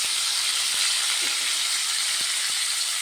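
Curry leaves and cumin seeds sizzle in hot oil for an egg curry, giving a steady, close hiss with faint crackles and no talking.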